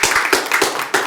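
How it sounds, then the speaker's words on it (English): Short burst of hand clapping from a small crowd at a dental clinic opening, a handful of distinct claps in quick succession, close and moderately loud, no talking. "I think they deserve a round of applause for that"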